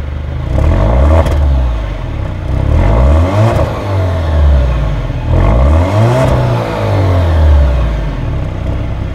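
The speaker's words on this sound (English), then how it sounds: "The engine's quite refined, possibly might even almost be a little bit too muted." An Alfa Romeo Giulia Veloce engine revs repeatedly, its pitch rising and falling in several smooth sweeps, loud and close with a refined, fairly muted tone and a light mechanical clatter underneath.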